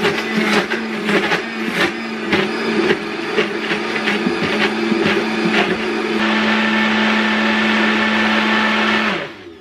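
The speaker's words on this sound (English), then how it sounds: "And then you blend it up." A countertop blender whirs through a coconut milk smoothie, loud and close, first rough and churning, then settling into a smooth, steady high whine before cutting off.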